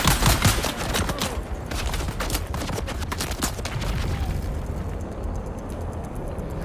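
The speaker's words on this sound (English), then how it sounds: "How the hell did his grenade literally take all my health off through my shield?" In the video game Dune Awakening, rapid gunfire and explosive bursts crackle densely and loudly throughout, with sharp repeated reports layered over a heavy rumble.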